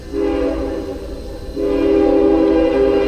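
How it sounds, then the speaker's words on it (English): Two long, loud blasts of a distant train horn sound close together in the woods as the train nears a trestle, the second one stronger and held to the end. "There's a train nearby."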